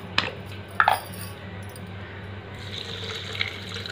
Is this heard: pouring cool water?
yes